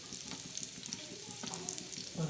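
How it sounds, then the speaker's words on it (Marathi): Onion frying in a pan for black masala gives a soft, steady sizzle with light crackles and a faint stirring scrape, close but fairly quiet, with no talking. "आता आपण प्रथम हा कांदा भाजायला टाकला आहे"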